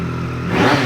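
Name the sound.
Triumph Street Triple R motorcycle engine revving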